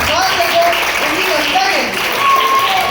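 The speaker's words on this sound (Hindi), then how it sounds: "हम आपकी तालियों के पुष्प वर्षा के बीच आमंत्रित करते हैं" Audience clapping at a school Hindi Day celebration, a dense continuous patter throughout with a voice carrying over it.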